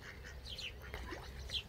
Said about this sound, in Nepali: हाँसहरू चाहिँ गीत गाइरहेछ उता।